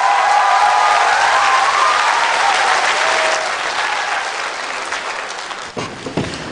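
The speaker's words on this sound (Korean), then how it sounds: "다시 한번 큰 박수 부탁드립니다" A big round of audience applause at a televised music competition stage show, loud and dense at first, then thinning and fading toward the end with a few scattered claps.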